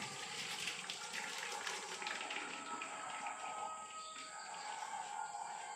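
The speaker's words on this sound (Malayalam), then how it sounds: "അരിപ്പ പാത്രത്തിലേക്ക് നമുക്കിത് ഒഴിച്ചു കൊടുക്കാം." Cooked rice ada and its water pour into a strainer during Onam ada pradhaman preparation, a soft continuous splashing rush that fades slightly toward the end, with faint background hiss.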